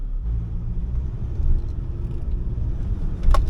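A car rolls past on a street where pigeons sit in the road, a steady low rumble of tyres and engine building slightly toward the end, close by and alone without talk.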